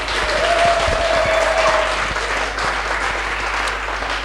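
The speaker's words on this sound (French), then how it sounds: "Je vais vous prier de vous acclamer." An audience at a gospel show applauds loudly and steadily, a close, full wash of clapping that holds for several seconds without talk.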